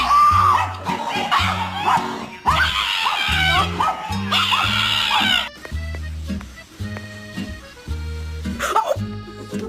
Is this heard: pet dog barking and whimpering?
yes